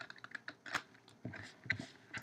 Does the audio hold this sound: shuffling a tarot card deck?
yes